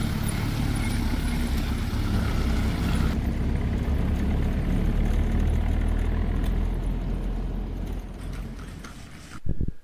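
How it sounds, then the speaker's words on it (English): A Chevrolet taxi drives on a road in Cuba near Rafael Freyre, north of Holguín, its engine a steady low rumble close by, with road noise that eases slightly before a brief clatter at the end. "the Chevrolet taxi turns off toward Rafael Freyre"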